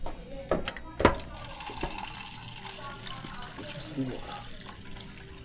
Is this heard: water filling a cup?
yes